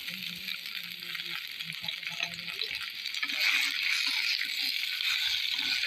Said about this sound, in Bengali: কড়াই গরম হয়ে এসে তেল দিয়ে দেবো সবজি ভাজার জন্য।